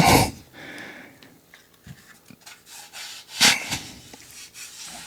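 Scratchy rubbing against a Ruger rifle stock's grippy coating, a few rough swipes and soft knocks with hollow, close-up scraping between quieter stretches.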